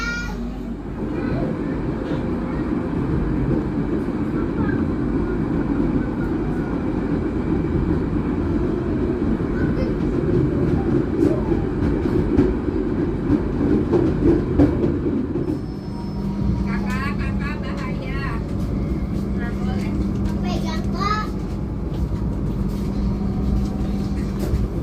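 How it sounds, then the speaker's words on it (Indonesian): An Indonesian Harina passenger train pulls out of Babat station, its steady rolling rumble and carriage rattle shifting tone partway through, heard from inside the coach with voices talking. "Sekarang kereta api Harina berangkat dari stasiun Babat."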